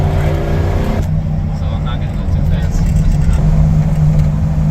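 Car engine rolling back onto the throttle after a brake tap during a track ride-along at the Freedom Factory, a steady loud drone continuing throughout with an abrupt change near the first second, and a voice talking over it.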